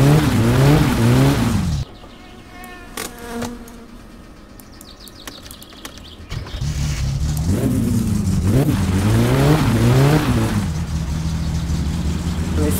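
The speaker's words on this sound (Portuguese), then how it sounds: "carro tá vibrando pra caramba, mano." Car engine in My Summer Car, running rough and shaking hard, revving loudly in rising and falling bursts, then dropping to a low idle before revving up again, with no talk over it.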